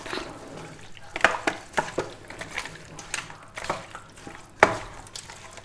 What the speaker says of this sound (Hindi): अब हाथों की मदद से इस मसाले को अच्छी तरह मिक्स कर लेना है।